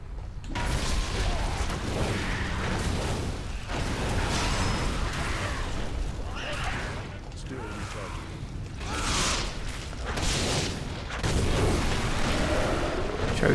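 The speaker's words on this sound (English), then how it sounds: "Trebuchet destroyed." A trebuchet is smashed in the Diablo 3 video game amid dense, continuous booming crashes, rumbling impacts and clattering mechanical battle noise that stays loud throughout with brief dips.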